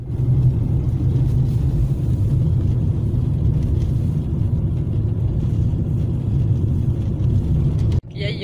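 Car driving along a road heard from inside the cabin, a loud steady low engine and road rumble that continues evenly, briefly dipping near the end.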